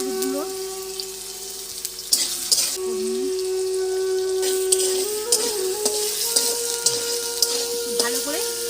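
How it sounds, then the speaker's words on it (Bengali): Turmeric powder frying and being stirred in a pan, an even sizzle under repeated scrapes and clinks of a spoon, with a steady tonal hum and faint background voices. "ভালো করে আমি ভেজে নেব।"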